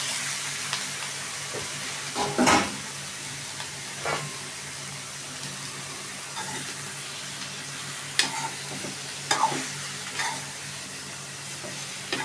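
Cut eggplant and potato are sautéed in a pan with little water, giving a low steady sizzle broken by a few scattered scrapes and knocks from stirring, moderately close and fairly faint.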